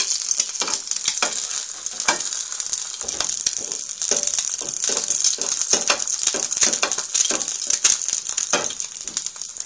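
An egg frying in a pan gives a steady, close, bright sizzle throughout, with irregular crackles and pops and light clicks and scrapes from stirring or handling, and no voices.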